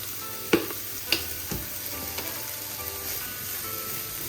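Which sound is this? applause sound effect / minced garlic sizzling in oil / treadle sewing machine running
minced garlic sizzling in oil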